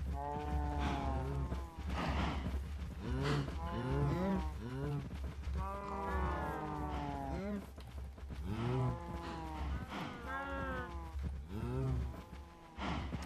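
Several cows moo over and over in a video game, long drawn-out calls overlapping one another, loud and close above a steady low hum, with only short gaps between the calls.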